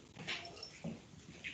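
A small dog whimpers faintly in a few short, high, thin cries in a quiet room.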